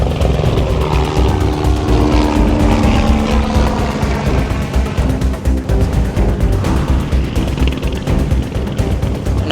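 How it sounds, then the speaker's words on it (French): A firefighting helicopter draws closer over a major wildfire in France, its loud, continuous rotor and engine roar filling the scene with a steady broadband drone that holds strong throughout. "Là on voit que l'hélico se rapproche."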